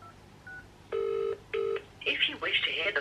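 Two steady dual-tone keypad beeps from a UK phone dialing a vaccine advice line, each about a third of a second, clear and close, followed by voices talking.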